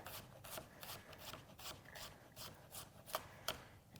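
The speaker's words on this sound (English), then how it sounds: "just thinly slice that" A knife thinly slices onion on a board for burger topping, with a steady run of quiet, crisp cuts and a couple of sharper strokes near the end.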